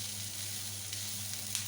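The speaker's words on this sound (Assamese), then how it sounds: "পিঁয়াজখিনি আমি অলপ ৰংচোৱা হোৱালৈকে ভাজি ল'লোঁ" Onions sizzling steadily in a hot pan, frying until lightly browned for an Assamese baingan bharta, a close, continuous crackling hiss with a faint low hum beneath and no talking.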